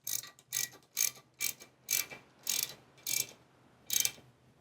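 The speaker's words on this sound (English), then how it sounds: "we're gonna tighten the bottoms first, which are a 8 millimeter" A ratchet snugs up 8 millimeter bolts on a Rascal GT Cruiser mobility scooter, giving eight sharp, evenly spaced clicking strokes close by with short gaps between them.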